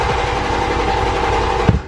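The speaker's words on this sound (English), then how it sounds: "Start the vehicle and relieve all that fuel pressure." A Toyota Mark II JZX100 engine runs briefly with its fuel pump fuse pulled, a steady droning idle that sputters and cuts out at the end, with no talk.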